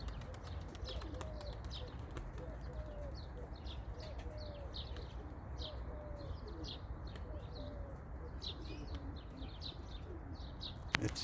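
Pigeons cooing in a repeated rhythmic series, faint to moderate, over steady low background noise with some chirps mixed in.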